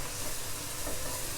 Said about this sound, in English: we see that the sherry has evaporated and we're back down to sizzling again